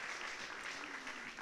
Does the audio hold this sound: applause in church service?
yes